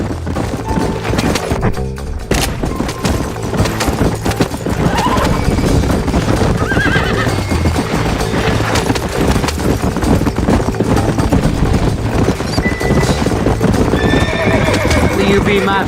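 In the Red Dead Redemption video game, horses pulling a wagon gallop with steady, loud clip-clopping hooves and occasional neighs, mixed with gunfire and tense game music while voices shout over the action.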